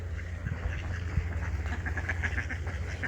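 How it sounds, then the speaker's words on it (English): Several ducks quack repeatedly at close to middle distance in Beacon Hill Park, a busy overlapping chatter over a low steady background rumble. "There's so many ducks."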